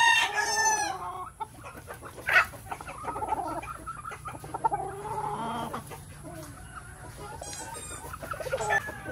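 Chickens in battery-type breeding cages on a Philippine poultry farm cluck repeatedly and a rooster crows, several birds close and loud over a steady low hum, with no talking.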